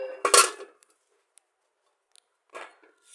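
Metal cooking pots and pans, rice and curry pots in a kitchenware shop, clank in a bright burst at the start, followed by near silence, tiny ticks and a second softer rattle near the end.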